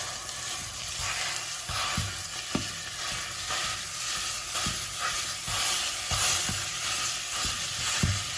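Italian sausage meat and mushrooms fry in oil in a pan, a steady close sizzle broken by regular scraping and clattering stirs, with no talking.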